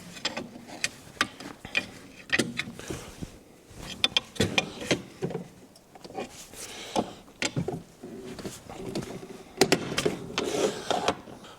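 Metal parts of a Skidoo 377 snowmobile clutch being pried apart make a run of sharp clicks, clunks and scraping knocks in irregular bursts, close and moderately loud, with no talking.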